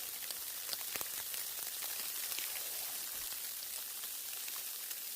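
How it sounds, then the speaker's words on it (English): Ice pellets patter on a tent through the night, a faint steady hiss with scattered sharp ticks and taps, no voices. "it's basically been not raining, but like icing all night."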